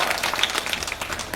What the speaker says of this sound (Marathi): इतकं भारी वाजवाट टाळ्या त्यांच्यासाठी